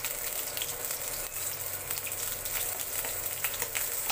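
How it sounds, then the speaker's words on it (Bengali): Garlic cloves frying together with silver carp fish in hot oil give a steady, close sizzle with crackling pops throughout, with no voices. "রসুনগুলো মাছের সঙ্গে ভাজা হতে থাক।"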